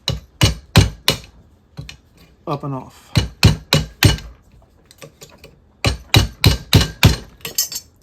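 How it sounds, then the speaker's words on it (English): A hammer strikes a chisel to knock a steel piece off a switchbox during a teardown: sharp metallic blows in quick clusters, close and loud, with a brief spoken remark between them. "use the chisel and the hammer to try to get that piece"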